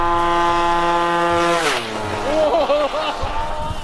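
A scooter approaches with a loud, rising buzzing engine whine whose pitch drops sharply as it passes close by, followed by rougher, fading engine sound.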